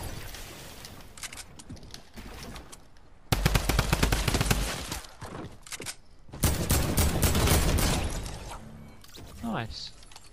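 First-person shooter video game gunfire cracks out in dense bursts of rapid shots, loud and close, with players talking over and between the volleys.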